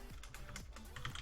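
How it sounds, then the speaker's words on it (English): Rapid keystrokes clatter on a computer keyboard, a quick, steady run of clicks heard close up over a low background hum. "I'm just gonna type as much as I can"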